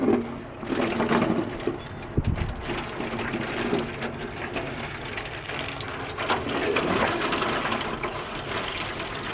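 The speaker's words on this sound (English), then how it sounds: "now we're just gonna put some water in there" Water gushes and splashes steadily into a pan, a continuous rushing pour with some clatter, close by and fairly loud.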